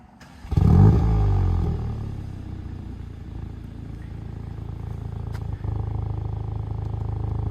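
A Volkswagen Golf GTI Clubsport Edition engine in eco mode cranks and fires with a loud roar, then drops back to a steady, close idle that holds for several seconds.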